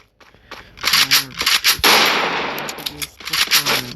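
Sniper rifle fire in the Free Fire mobile game, rapid sharp gunshots in quick bursts at close range, with a voice in between the shots.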